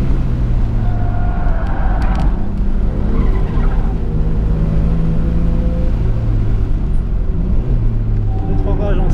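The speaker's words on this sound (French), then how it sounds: "Passage en 3 un peu tôt." A race car engine roars loudly throughout, shifting up into third gear slightly early, with revving pitch changes and tire noise, close and continuous.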